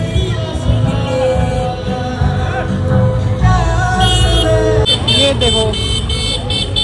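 Vehicle horns honk in short repeated blasts on a crowded street during a religious festival procession in Kotdwar. They sound loud and close over dense crowd noise, and people are talking nearby.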